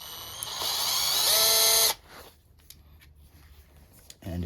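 A cordless 16V lithium-ion compact impact driver backing out a screw gives a loud, rising high-pitched motor whine for about two seconds, then stops abruptly, followed by quiet handling and a brief final whir.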